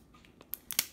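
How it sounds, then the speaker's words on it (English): Scissors snip open blind box toy packaging, a few quick sharp cuts ending in one louder crisp snip, close and brief with no talk. "Have to bring in the scissors here. I couldn't open it by myself."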